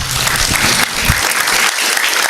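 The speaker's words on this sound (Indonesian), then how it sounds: "Mari berikan tepuk tangan" A conference audience gives a speaker a round of applause after a talk on religion and the ecological crisis: dense, loud, continuous clapping from many hands that fills the whole moment, with a faint low voice briefly underneath at the start.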